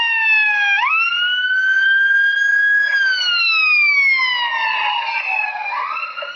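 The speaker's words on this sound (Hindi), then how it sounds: "और एक एम्बुलेंस का भी सुनते हैं जो हम रोड पे यूजुअली एक्सपीरियंस करते हैं" An ambulance siren passes close by on a road, its loud wailing tone rising as it approaches and then sliding lower as it moves away, heard alone with a clear Doppler pitch drop.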